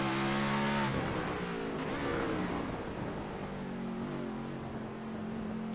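A race car lapping Circuit of the Americas, engine note sweeping down under hard braking and then climbing again on acceleration, continuous and close as if from onboard, no voices.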